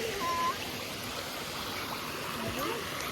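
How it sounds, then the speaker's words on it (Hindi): Rainwater pouring down a road after very heavy rain, a steady broadband rush of running water like a small waterfall, continuous and fairly close with no talk over it. "ये सड़क में बना है वाटरफॉल, और ये है सड़क।"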